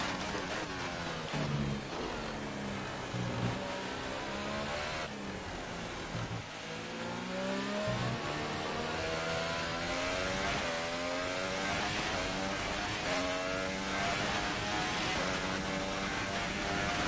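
F1 race car in the F1 2018 video game at the Mexico Grand Prix, its engine screaming steadily through a flying lap with rising and falling harmonic sweeps as it shifts gears, loud and continuous with no talking.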